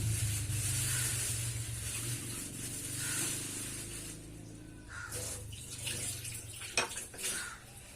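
Liquid milk pours into a cooking pot that already holds water for a custard filling, a continuous splashing trickle that thins toward the end, with a light clink of utensils near the close.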